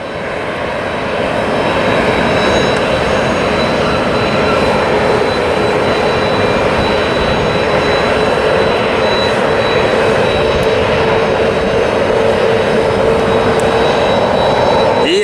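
A private jet's engines roar at full takeoff power, a loud, continuous broadband rush that holds steady throughout the whole stretch.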